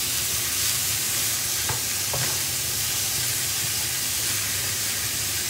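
Mince stir-fried for a Chinese noodle sauce, a loud constant sizzle and hiss with occasional stirring scrapes, close by and without speech.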